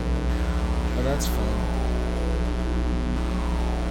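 A steady low spaceship engine hum from the Star Fleet II: Krellan Commander video game drones continuously underneath, while a person speaks briefly over it.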